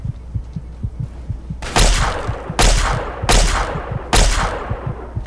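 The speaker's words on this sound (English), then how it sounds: "I'm getting shot again. I can hear it. Hunting rifle, eh?" Four loud, evenly spaced hunting rifle shots in Fallout 3 crack out roughly a second apart, each with a sharp report and short ringing decay over a low rhythmic thumping.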